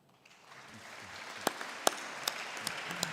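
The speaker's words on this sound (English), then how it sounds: "You hear a big applause here from about 100 people from all over Europe" Applause from about a hundred people at a European Space Agency ministerial summit, a faint, distant wash of clapping that swells gradually with a few sharper individual claps standing out.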